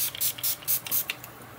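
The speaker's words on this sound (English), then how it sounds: "Spray some water on the back of there." Short bursts of spray from a hand spray bottle misting water onto the back of a card panel, several quick hisses in an irregular rhythm, close and fairly quiet.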